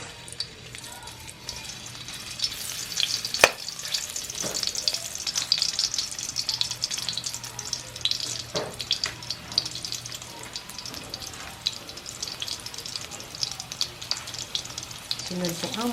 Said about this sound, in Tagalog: Lagay po natin ang ating sibuyas.